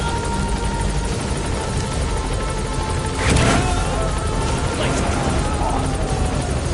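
A helicopter in a PS4 video game gives off a steady, dense rotor whir that fills the whole stretch, swelling briefly louder midway before settling back to an even drone.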